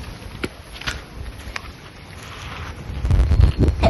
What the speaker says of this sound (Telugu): చూడండి ఎంత గాలి వస్తుంది